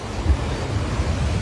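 Steady ocean surf rolls in a continuous low wash, mixed with wind buffeting the microphone, with no voices present.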